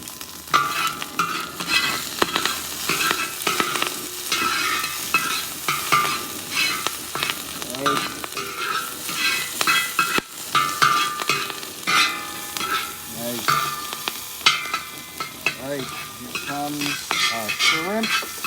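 Onions and shrimp sizzle and pop in hot oil for shrimp fried rice, loud and close, with steady frying hiss broken by stirring scrapes and sharp spatters and no voices.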